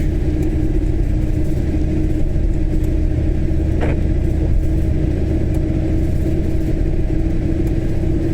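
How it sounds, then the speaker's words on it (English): A truck or van driving on the M9 motorway in Scotland's Falkirk district, heard from inside a moving vehicle as a steady loud engine and road rumble, with faint whooshing from passing traffic. "Truck coming out of Grangeworth or some kind of van or something."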